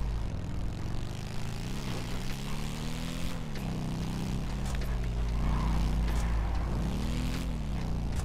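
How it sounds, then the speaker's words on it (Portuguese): A powerful motorcycle from the Bikers DLC in a video game roars loudly, its engine revving up and down in repeated swells of pitch, close and continuous with no one talking. "essa aqui ela já tem um ronco bem de moto potente mesmo"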